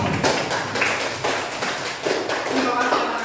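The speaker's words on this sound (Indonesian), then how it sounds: "Tepuk tangan untuk kita semua." Classroom applause as students clap their hands together, a fairly steady patter of close taps lasting a few seconds, with voices mixed in.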